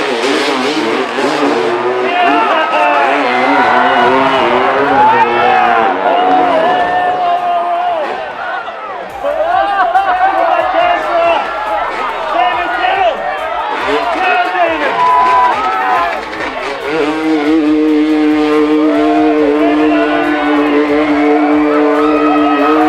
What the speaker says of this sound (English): The Motorbike Mud Challenge